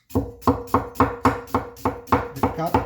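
A Deng TA-03 Chinese cleaver chops red onions on a board in a steady run of about eleven sharp, close thuds, each a crisp knock with a short crunch as the blade meets wood.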